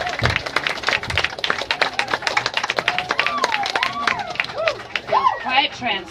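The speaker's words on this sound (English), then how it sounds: "Let's give her another round of applause, ladies and gentlemen." Audience applause at a gypsy-themed salon performance, a dense patter of clapping hands continuing steadily throughout, with voices and murmuring mixed in over the claps.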